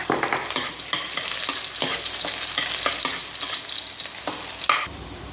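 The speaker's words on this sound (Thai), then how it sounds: "เดี๋ยวเราจะนำกระเทียมนะคะที่เรา เจียวอะที่เราหั่นไว้นะคะ ลงไปเจียวให้หอมนะคะ" Chopped garlic fries in hot oil and is stirred, making a steady crackling sizzle with scattered sharper pops and scraping stir strokes. It is close and continuous, with no talking.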